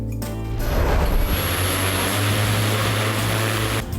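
A student-built drone flies close by with a loud, steady propeller whir and a thin high whine, holding nearly constant for about four seconds with no voices.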